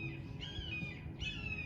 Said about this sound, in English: Do you hear the bird talking?